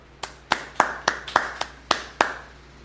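A church congregation at a Sabbath service claps in a slow, steady rhythm, eight sharp claps ringing out in a reverberant room with no voices.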